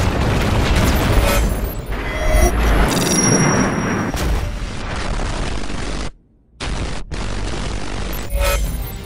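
Battlefield 3 explosions boom and burst one after another in a dense, loud barrage of blasts and crackling debris, broken by a brief sudden silence before the rumble resumes.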